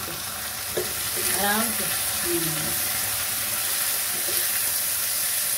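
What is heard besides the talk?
tomatoes added to pan, stirring and frying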